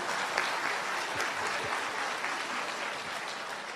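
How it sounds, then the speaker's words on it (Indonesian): An audience applauds at a Buddhist Dhamma talk given by a monk, with dense, steady clapping from a crowd that holds evenly for a few seconds. "Wah, tepuk tangan untuk suhu."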